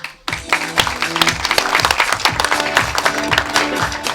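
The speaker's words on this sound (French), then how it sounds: "Applaudissez bien fort Monsieur Nicolas Vial." Audience applause greets the presenter at a business evening event, starting abruptly after a brief silence and continuing as loud, close, dense clapping with some louder individual claps throughout.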